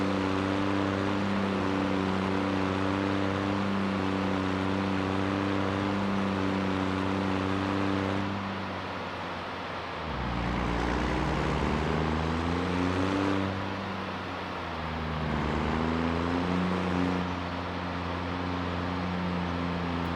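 A first-generation truck driven in Farming Simulator 25 gives a steady engine drone that twice dips and climbs back in pitch, as if shifting gears or easing off. The drone is continuous and loud, with no voices.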